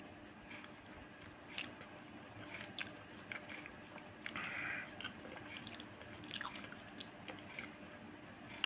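Someone eats dal fry with jeera rice and paratha, with faint, intermittent bites and soft chewing clicks scattered over a quiet background.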